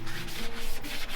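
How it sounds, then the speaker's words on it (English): Hand sanding of vehicle body panels, a close, steady scratchy rubbing of abrasive paper across metal in quick repeated strokes, with no talking. "We're hand sanding everything right now."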